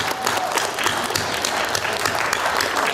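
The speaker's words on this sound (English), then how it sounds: "Give me a round of applause for you right now." A student audience applauds loudly and steadily at a college campaign event, a dense wash of many hands clapping close by for the full few seconds.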